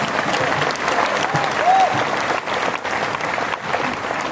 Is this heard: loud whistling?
no